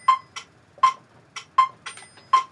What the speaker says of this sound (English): I've got the metronome on at 80.